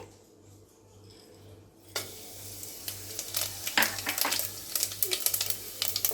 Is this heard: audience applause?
no